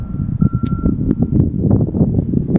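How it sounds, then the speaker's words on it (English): Start-up warning beeper on a Morbark wood chipper: a steady high electronic tone sounds briefly over a loud, rumbling engine and outdoor background noise, with no one talking. "It's got a 5-second beeper on it, and you have to hold the key over for it to do that."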